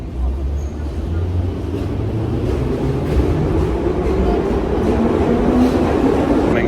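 A Tashkent metro train rumbles steadily with low, droning wheel and motor noise throughout, loud and continuous from inside the car.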